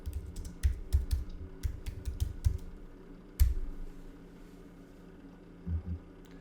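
Quiet keystrokes on a computer keyboard come in short irregular bursts of clicks, with a few louder taps and pauses between, over faint room hiss.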